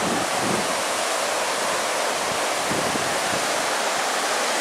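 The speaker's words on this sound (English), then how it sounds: "Look at the waterfall coming down here." Falling water roars as a dense, unbroken hiss near a hiking trail on the Carp River in Michigan's Porcupine Mountains, loud and steady with no voices over it.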